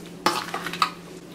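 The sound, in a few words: mixing eggplant choka ingredients together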